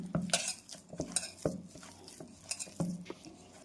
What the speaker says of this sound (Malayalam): ബ്രെഡിൻ്റെ പൊടി ഇട്ട് മിക്സ് ചെയ്യാണ്